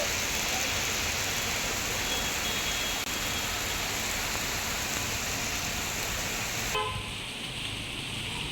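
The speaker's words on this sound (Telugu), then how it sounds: "మియాపూర్లో భారీ వర్షం కురుస్తోంది." Heavy rain pours down in Miyapur, Hyderabad as a dense, even hiss. Faint traffic and an occasional car horn sound underneath, and the downpour thins slightly near the end.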